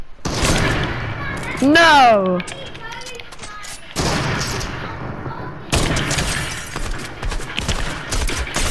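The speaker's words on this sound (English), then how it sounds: "Oh, I almost sniped you." Sniper rifle fire in Fortnite: sharp, loud shots ring out a few times between excited, shouting young voices that dominate the scene.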